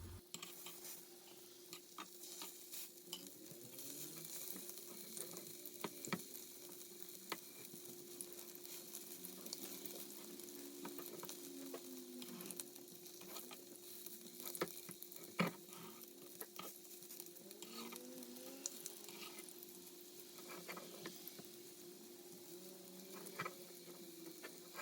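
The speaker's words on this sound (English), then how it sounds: "that starts to bubble up straight away, so we know the oil is ready to use" Couscous and feta fritters frying in hot oil, a quiet, steady sizzle with fine crackling pops and bubbling throughout, close and unbroken.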